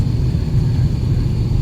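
Cabin rumble of an airliner landing on the runway on a flight to Sri Lanka: a loud, steady low roar with a dense mechanical drone and no speech.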